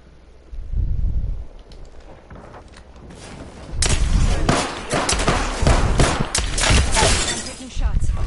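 Gunfire in Apex Legends: heavy bursts of shots and impacts, loud and clustered in the second half, with a voice talking over parts of it.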